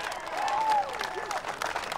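A crowd at the 1997 World's Strongest Man final applauds and cheers for a strongman event finisher, a moderate wash of clapping with a commentator's voice running over it.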